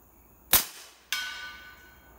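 One sharp report from a Gear Head Works ONE pistol fired at a 100-yard target, loud and close. About half a second later a second crack or impact follows, each trailing off quickly in open air, with no talking.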